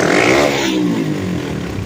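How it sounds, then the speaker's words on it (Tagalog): Motorcycle fitted with a 57mm engine block and a chicken pipe exhaust, held at full throttle: a loud, close, raspy engine roar sustained throughout, its pitch sweeping slightly as it revs. "Ayan yung full throttle niya"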